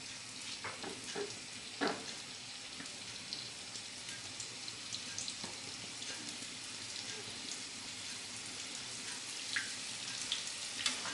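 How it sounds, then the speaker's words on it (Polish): Soft, steady crackling sizzle of egg and pearl barley patties frying in hot fat, with scattered small pops and faint clicks, fairly quiet throughout. "Smażymy z jednej i z drugiej strony"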